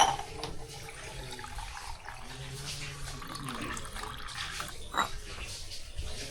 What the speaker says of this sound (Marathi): त्यामध्ये पाणी घालू दे